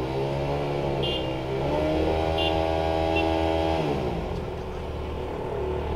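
Two KTM RC 390 motorcycles rev side by side before a drag race, engine pitch climbing and holding high for a couple of seconds before dropping back to a loud, close idle, with faint beeps above.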